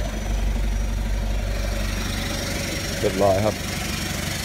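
A remapped Isuzu All New D-Max 3.0 Euro 4 diesel idles steadily nearby with a low, even rumble. Someone speaks briefly over it near the end.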